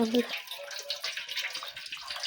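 Coconut water being poured from a coconut, splashing and trickling steadily, close by, with a brief voice at the start.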